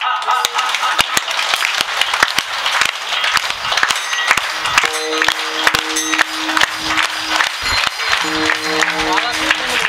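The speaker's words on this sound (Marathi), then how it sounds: "निवृत्तीनाथाचं गोड भजन होणार, पण टाळ वाजणार नाही, पखवाद वाजणार नाही, फक्त टाळी वाजणार" During a kirtan in Dahiwad, an audience claps in steady rhythm along to a devotional bhajan for Nivruttinath with no cymbals or drum, just sharp, regular hand claps under a singing voice.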